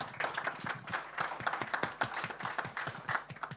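Audience applause at a French sportech event on the 2024 Olympic and Paralympic legacy: steady, dense clapping of a modest crowd across the whole stretch, fairly faint and without voices on top.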